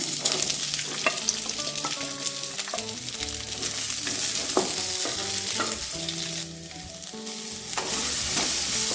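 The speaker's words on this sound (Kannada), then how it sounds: "ಒಂದು ನೀರುಳ್ಳಿ ಹಾಗೆ ಕ್ಯಾಪ್ಸಿಕಮ್ ಕಟ್ ಮಾಡ್ಕೊಂಡಿದ್ದೀವಿ ಅದನ್ನು ಕೂಡ ನಾವು ಫ್ರೈ ಮಾಡ್ಕೊಳ್ಳೋಣ" Chopped onion and capsicum fry in a pan for a veg kadai: a loud, continuous close sizzle that holds steady for the whole stretch, with background music playing along and no speech.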